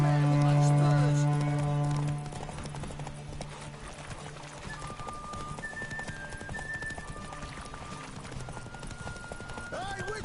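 Horse hooves gallop in a steady, rapid clip-clop during a mounted race in The Witcher 3, continuing throughout under game music and voices, with a brief harmonic voice or whinny near the start.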